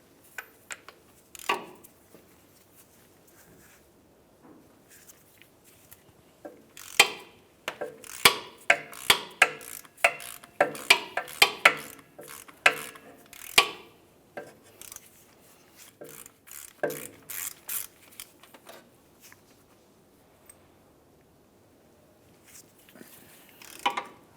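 Two 18mm bolts being removed from the differential of a 2005-2010 Dodge Dakota with a 4.7L V8, heard as bursts of quick ratchet clicks and metallic taps separated by quiet pauses, close by.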